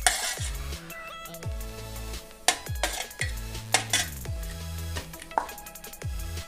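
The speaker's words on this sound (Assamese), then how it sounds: "এতিয়া গোটেইখিনি ভালকৈ মিক্স হোৱাকৈ সানি ল'ব লাগিব।" Small fish being mixed with spices by hand in a metal bowl, heard as scattered clinks, knocks and wet rubbing at close range, alone without speech.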